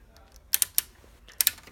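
Quick dry clicks in small bursts from the ratchet on a robot's single-motor intake indexer, several sharp ticks close by over a faint background hum.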